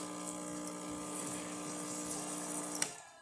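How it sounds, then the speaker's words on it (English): A Rancilio Silvia espresso machine's hot water pump hums steadily with a watery rush for about three seconds, then cuts off abruptly. "Let's test the hot water."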